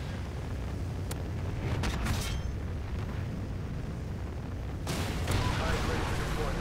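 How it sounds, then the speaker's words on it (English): Trinity rocket strike explosions in the video game Call of Duty Ghosts: a dense, continuous rumble of blasts with sharp cracks near 1 s and 2 s and a heavier burst near 5 s, with faint talk underneath. "Friendly Trinity rocket inbound."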